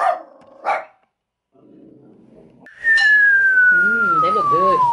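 Small dog barking indoors, two short sharp barks at the start, then after a pause a long descending whistle-like tone with wavering vocal sounds underneath, fairly close and loud.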